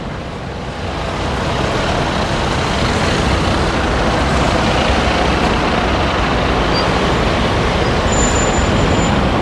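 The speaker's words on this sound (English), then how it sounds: "it's cool to see both double-decker and single-decker buses sharing city streets" Heavy road traffic on a Singapore city street, with double-decker and single-decker buses rumbling past in a steady, loud, broadband roar, a brief squeal near the end.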